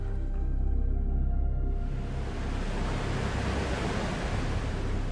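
Rushing river floodwater surges around a mountain home in western North Carolina during Hurricane Helene, a loud, steady broadband roar with no voices, following a brief tonal hum at the start.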